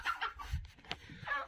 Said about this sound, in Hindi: ये एक मुर्गी जी कुड़क पर बैठी हुई है